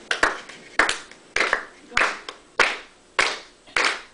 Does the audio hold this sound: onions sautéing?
no